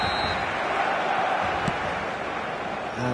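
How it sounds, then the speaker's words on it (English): A football video game's stadium crowd gives a steady, distant roar of massed voices on a clear evening matchday, even and continuous throughout with no distinct cheer peaks. "the matchday noise at this place is truly special"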